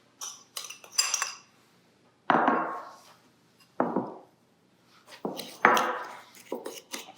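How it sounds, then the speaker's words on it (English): Paprika and pepper rub ingredients are mixed in a bowl for pulled pork, giving bursts of scraping, clinking spoon-on-bowl strokes separated by brief pauses, close and fairly loud with no talk. "I'm just gonna mix the ingredients together for the rub."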